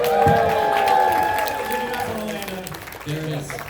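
A convention panel audience claps and cheers loudly at first, the applause gradually thinning out, with a voice speaking briefly near the end.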